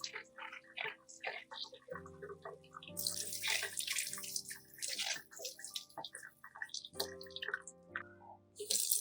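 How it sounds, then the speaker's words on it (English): Cucumbers are washed by hand under a running kitchen tap, with intermittent splashing and dripping water over soft music and handling clatter, and no speech. "Wash each melon under running water."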